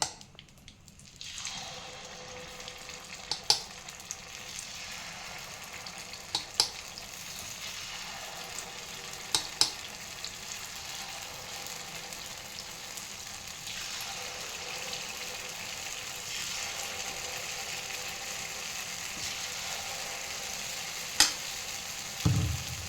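Sweet kuzhi paniyaram batter frying in ghee in a paniyaram pan, a low continuous sizzle with a few faint taps and clicks scattered through it.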